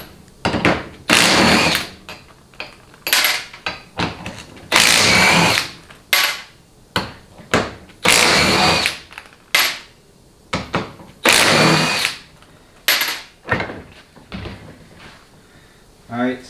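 Power tool spinning out the five 13mm bolts on a 4L60E transmission pump during teardown, in repeated loud bursts of a few seconds each with short pauses between, close by, with brief clinks and handling noise in the gaps.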